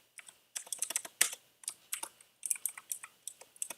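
Rapid, uneven keystrokes on a computer keyboard, clicking in short bursts with brief pauses, close and fairly quiet with no voices.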